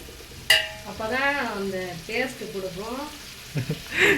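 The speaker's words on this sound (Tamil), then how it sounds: "நல்லா பொன்னிறமாக ஆகிற வரைக்கும் வதக்கணும் ஏமா வெங்காயம் போடுறோம்" Onions for chicken biryani sauté in a hot pan, giving a soft, steady sizzle with a few stirring scrapes. A person talks over it through most of the stretch.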